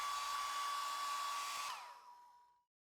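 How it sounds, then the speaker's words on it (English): A handheld hair dryer blows a steady, loud, close whoosh with a high whine while heating a vinyl dbrand skin on an iPhone Pro, running alone for over two seconds before winding down and cutting off. "Grab your hairdryer and heat the exposed flap until it becomes soft."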